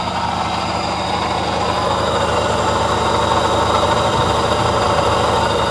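Engine of a Lexus SC430 at an auction, running steadily with a continuous droning hum and a faint whine, fairly loud and close with no voices over it.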